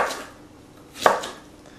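Knife chopping an onion into small strands on a cutting board, two distinct close chops about a second apart, with quiet between them.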